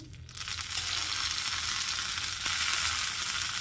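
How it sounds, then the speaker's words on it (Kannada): Fenugreek seeds tempering in hot coconut oil in a pan sizzle steadily and loudly after a brief quieter start, a continuous close crackling hiss with no voices. "ಒಗ್ಗರಣೆ ಹಾಕ್ಕೊಳ್ಳೋಣ."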